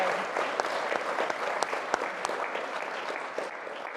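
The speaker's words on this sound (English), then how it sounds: "And that's worthy of a round of applause." Audience applause at a startup-foundation event: steady, moderately loud clapping from a sizable crowd, with individual sharp claps standing out, lasting the full few seconds.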